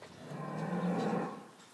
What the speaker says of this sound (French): Là, c'est des vaches.